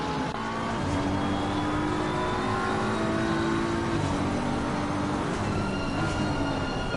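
A BMW race car engine in a sim racing game at Zandvoort snarls through gear changes, its rising and falling tones layered with other cars' engines in a steady, raw drone.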